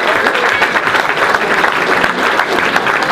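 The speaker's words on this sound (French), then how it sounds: "Alors on peut les applaudir" After a basketball game, the crowd claps for the players, a dense, continuous burst of applause filling a few seconds at steady volume with no voices over it.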